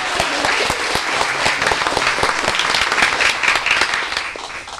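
A crowd at a conference panel event applauds the panelists, with dense, loud, sustained clapping that fills the whole stretch and fades slightly at the very end.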